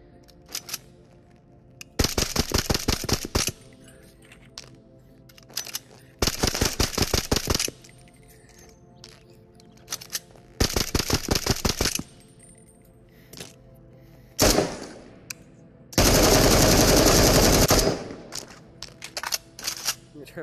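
PPSh submachine gun firing in the VR shooter Into the Radius: four long full-auto bursts, each about one to two seconds, with a few brief single clicks between them, loud and close with no talk.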